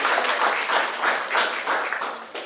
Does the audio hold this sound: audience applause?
yes